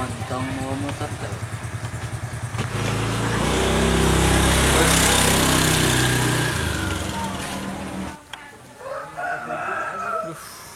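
A motorcycle engine runs loudly and rumbles nearby, swelling as it revs for several seconds before cutting off. A rooster crows in the background and people talk over it.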